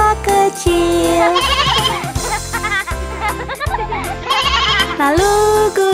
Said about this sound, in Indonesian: ada domba kecil